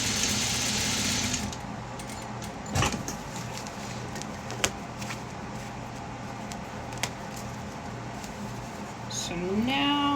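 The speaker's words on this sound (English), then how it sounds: "sew the other side" Sewing machine running along the side of a small zipper wristlet, a low steady mechanical hum with a few light clicks, winding down near the end.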